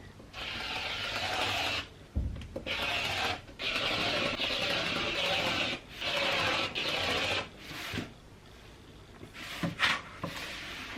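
Fabric strips for a scrappy quilt border being cut at close range: repeated dry rasping strokes in steady bursts separated by short pauses, with a few light knocks near the end and no talking.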